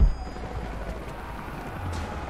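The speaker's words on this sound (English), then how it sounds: "helicopters are headed your way" Helicopter rotors chop in a steady low thrum in a Rise of the Tomb Raider game scene set in the Geothermal Valley, moderately distant and even in level throughout, with no voices.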